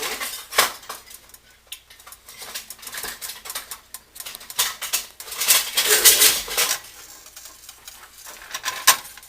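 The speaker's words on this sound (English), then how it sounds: "We're just gonna keep moving this around here until the butter melts while I get my spoon." Butter melting in a pan on an electric stove over medium heat, stirred with a spoon: irregular scraping, clinking and tapping of metal against the pan, near and fairly quiet, with no talking.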